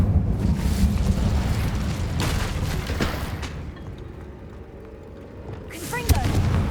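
An Incendio fire spell cast in Hogwarts Legacy, a roaring, rumbling burst of flame with crackling booms that fades, followed by another sharp magical whoosh near the end over game sounds.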